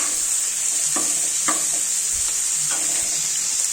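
Rice stir-fried in ghee in a pan: a loud, constant sizzle with several scraping stirs of a spatula at irregular intervals, no talking.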